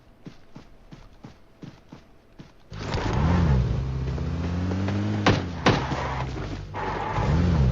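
A car in PUBG Mobile: a few soft thumps lead into a loud engine drone that rises and falls in pitch as the vehicle drives and shifts, with a sharp clack partway through.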